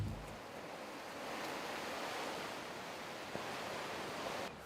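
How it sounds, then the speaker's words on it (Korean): Ocean waves roll onto a beach on Korea's East Sea coast at Songjiho, making a continuous soft surf wash with a faint wind rush. No one speaks. "파도 소리, 역시 동해안은 진짜 멋있습니다"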